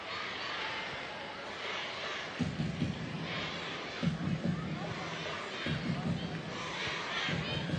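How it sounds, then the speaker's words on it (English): Stadium crowd at a Denmark vs Malta women's World Cup qualifier, a steady distant roar of many voices with periodic low swells of cheering and clapping rising through the din. "Crowd will stay to the very end to celebrate a convincing scoreline."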